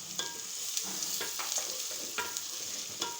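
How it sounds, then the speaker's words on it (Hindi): A spoon stirs thinly sliced onions frying in a pan for chicken chickpea curry. Soft, evenly spaced scraping strokes sound over a quiet, steady sizzle. "अब एक चम्मच की मदद से इसको अच्छी तरह से जो है वो मिक्स कर लेंगे"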